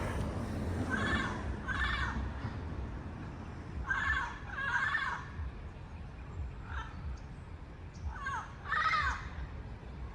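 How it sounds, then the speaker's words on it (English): Wild parrots squawk in a South Pasadena neighborhood, harsh screeching calls arriving in clustered bursts of two or three, moderately distant over a low outdoor background. "It's the parrots in South Pasadena."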